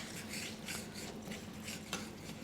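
Wild mushrooms stirred around in a pan, a steady soft scraping and rustling with faint clinks of a utensil against the pan, close and fairly quiet, no voices.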